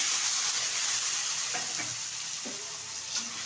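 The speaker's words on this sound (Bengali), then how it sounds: "আলুটা একটু নেড়ে চেড়ে নেব।" Sliced potatoes sizzle loudly in a frying pan for a dried-fish curry while a utensil stirs them, adding a few soft scraping knocks over the constant frying hiss.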